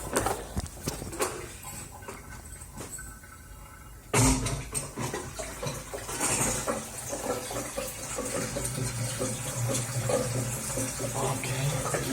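Water is drained and poured out of a washer tank in a messy indoor setting, with irregular sloshing, splashing and dripping, and a sudden louder gush partway through that settles into continuous splashing.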